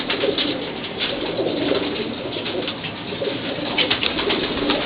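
Steady, overlapping cooing from a flock of racing pigeons in a loft, close and fairly loud, with soft murmuring calls layered continuously throughout.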